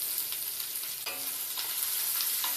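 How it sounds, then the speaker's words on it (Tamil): Sliced onions sautéing in hot oil with cumin seeds in a pan, a steady close sizzle with occasional stirring scrapes, no voices. "வெங்காயம் வதக்கிக்கலாங்க."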